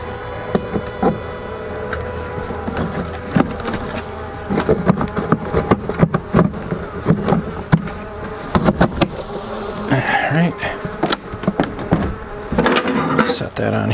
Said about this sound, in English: Bees here. I want to get them out.